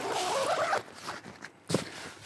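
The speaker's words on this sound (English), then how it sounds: "This thing's got YKK zippers." A YKK zipper being drawn shut on the canvas tent of a DIY overland camping trailer: one fairly quiet, close, continuous rasping pull, followed by faint handling rustles and a short knock.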